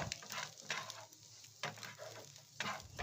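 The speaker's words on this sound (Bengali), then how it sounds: "তোমরা দেখতেই পাচ্ছ এখানে যে এই আলু ভাজাটা একটু ভাজা ভাজা হয়ে এসেছে" Potatoes, egg and onion fry in a pan with Maggi masala, giving a soft steady sizzle broken every second or so by louder scraping bursts of stirring. No one speaks.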